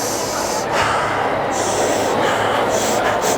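An audience at an early childhood association keynote breathing in and out through their noses, a broad, continuous rushing hiss of many breaths that swells and ebbs.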